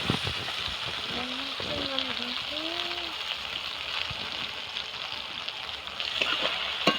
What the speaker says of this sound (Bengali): আর রসুন বাটা, আদা বাটা দিয়ে ভালো করে নেড়ে নেব